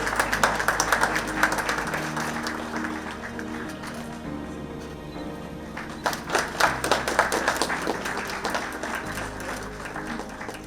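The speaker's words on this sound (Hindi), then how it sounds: "एक बार जोरदार तालियां हो जाए" An audience at an award ceremony claps steadily and loudly, dense clapping that swells and eases over about ten seconds over a music bed.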